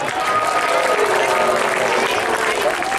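An audience applauds at a New Year public gathering in Madhya Pradesh: loud, steady clapping fills the whole moment, with a faint crowd murmur mixed in.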